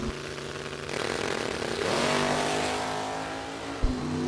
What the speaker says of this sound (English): Dennis DiValerio, 430 dialing for the supercharged dragster left-hand side.